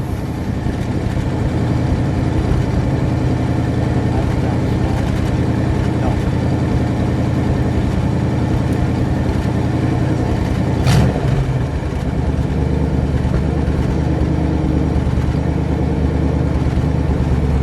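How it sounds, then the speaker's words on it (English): A 1959 Dodge Custom Royal Lancer Super D500 convertible idles a little high, its engine holding a steady, close rumble throughout, with a brief louder blip near the middle. "Still got a little high idle."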